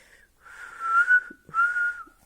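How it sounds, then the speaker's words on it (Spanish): A lifeguard's whistle at a swimming pool, two loud, sustained shrill blasts with a short gap between them, heard alone. "La socorrista utilizó el silbato"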